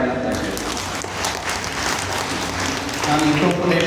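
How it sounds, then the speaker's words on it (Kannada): Steady crowd applause from a seated audience at a Kannada public talk, sustained and dense throughout, with a few scattered voices mixed in. "ಜೋರಾಗಿ ಚಪ್ಪಾಳೆ ಅಂತ ಹೇಳಿ"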